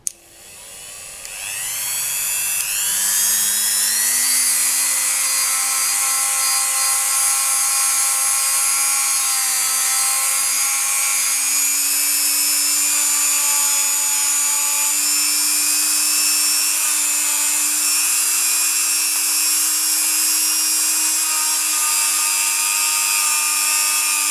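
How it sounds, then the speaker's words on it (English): A buffing wheel spins up while polishing a polymer clay glitter paw earring. It is a loud, close, high-pitched motor whine that climbs in pitch over the first few seconds, then holds a steady rising tone. "now I'm just going to switch on a buffing wheel"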